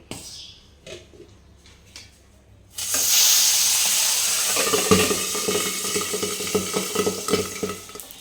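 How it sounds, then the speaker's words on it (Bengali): Pabda fish fries in hot mustard oil in a covered pan, a loud close sizzle bursting in after a quiet start and holding steady with crackling pops to the end. "মাছটাকে ঢেকে ঢেকে ভাজবো নাহলে মাছ খুব ফাটে"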